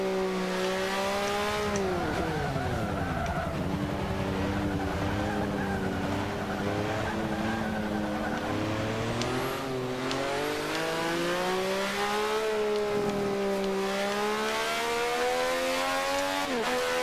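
A race car laps the Nürburgring in Forza Motorsport 5, its engine revving loudly through rising and falling gear changes, with brief tire squeals and skids, continuous and close with no talking.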